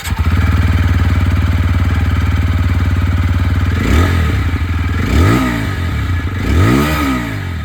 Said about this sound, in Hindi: यहाँ पर अपाचे की आवाज़